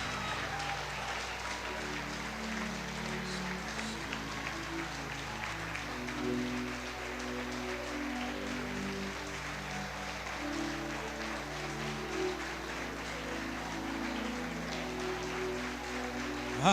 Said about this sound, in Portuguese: Mais forte esse aplauso a Jesus.